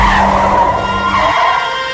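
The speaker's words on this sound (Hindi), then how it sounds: "गाड़ी एक बार फिर से अपने आप रुकी।" A car skids to a stop in an audio-drama scene, a loud continuous tyre screech with engine roar that holds for about two seconds and fades slightly at the end, with no voices.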